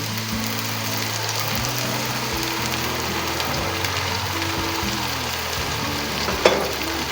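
Tomato paste frying in oil over high heat for palak gosht, a loud dense continuous sizzle with a single sharp utensil clink near the end.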